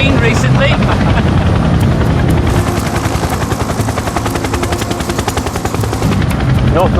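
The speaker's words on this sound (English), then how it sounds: "The Chinook proceeds at low level across the Antrim Hills." A Chinook helicopter flies at low level over the Antrim Hills, its twin rotors giving a loud, close, continuous rhythmic thudding and roar that holds steady throughout.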